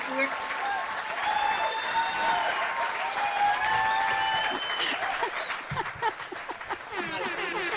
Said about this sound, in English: where's the applause sound effect?